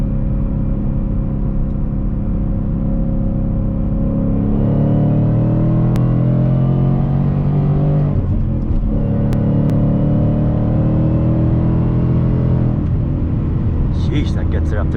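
A Ford Mustang engine climbs under hard acceleration along a foothill road, a steady loud rumble whose pitch sweeps upward through gear changes, with wind noise and a voice speaking over it.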